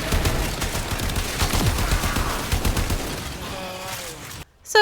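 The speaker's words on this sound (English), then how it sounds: "triggering it with the thunk of this weapon" The AX-52 rifle in Warframe fires in loud, rapid, sustained bursts with a heavy thunking punch, mixed with in-game effects, then cuts off abruptly near the end.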